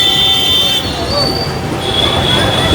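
A Kolkata tram rumbles along street rails as it arrives, with a steady hum, a high metallic whine and squeal riding over it, while a voice talks nearby.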